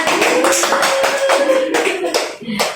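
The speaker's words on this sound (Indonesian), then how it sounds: "Tepuk tangan." Classroom clapping during an Indonesian-language storytelling lesson, a group of hands beating out rhythmic, evenly spaced claps with a sustained tone ringing faintly underneath.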